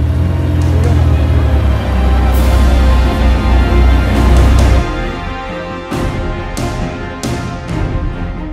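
Porsche 918 supercar following a LaFerrari at Top Marques Monaco, a loud continuous engine roar that drops abruptly midway, then several sharp passing bursts.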